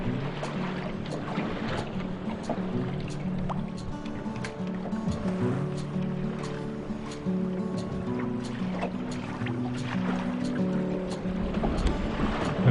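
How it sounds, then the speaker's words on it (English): A sailboat moving under headsail alone through building sea waves in moderate wind, with a steady rush of water along the hull and rhythmic slaps and sloshes of waves, continuous and close, with no talking. "When leaving the bay, the waves increased."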